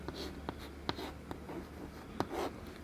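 Marker or chalk writing a chemical structure on a board, sounding as a series of sharp scratchy strokes and taps spread irregularly across a quiet room with low background hum.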